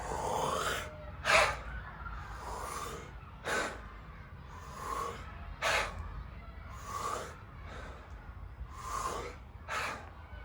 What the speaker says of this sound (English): it's gonna look like funnel breathing